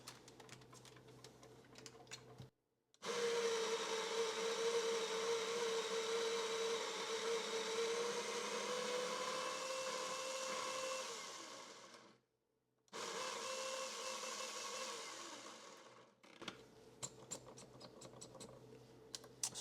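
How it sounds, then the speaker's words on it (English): A Breville grinder grinding coffee beans runs as a loud, steady whirring buzz for about ten seconds, stops briefly, then whirs again for a few more seconds before falling back to quiet room noise. "But let's get this grinded up."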